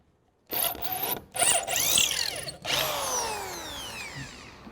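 A power drill whirs in several short bursts while fixing a deck post on concrete, then a longer run with the pitch sliding down as it binds and slows; close, no talking.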